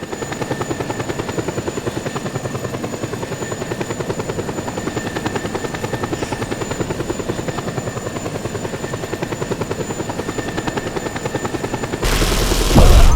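A helicopter in the Just Cause 2 video game thrums with a loud, steady rotor chop that continues without a break, turning harsher and louder near the end.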